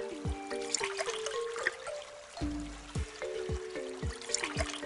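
Water trickles and pours in short bursts into a hole in a children's dinosaur education game, with repeated bright game tones and chimes over the gentle liquid sound.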